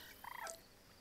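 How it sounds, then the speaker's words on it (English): A greater flamingo in the wildlife video game Alba gives a single brief honking, goose-like call, faint and short against quiet background ambience. "The greater flamingo."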